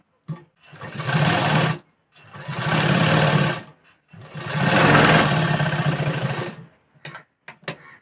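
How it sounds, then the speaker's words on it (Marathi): A sewing machine stitches a katori blouse, running in three steady mechanical bursts of about one to two seconds each, separated by short pauses, with a few brief clicks at the end. "आता इथून आपल्याला एक शिलाई मारून घ्यायची आहे"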